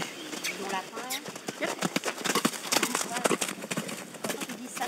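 Horse hooves clip-clop in a repeating rhythm close by, with speech running over the steps throughout.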